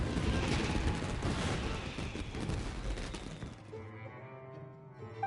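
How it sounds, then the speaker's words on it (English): Dense burst of fireworks explosions in the Genshin Impact video game, loud crackling pops and booms layered together, then fading into a quieter tonal musical tail. "Was that an explosion? It sounded like fireworks."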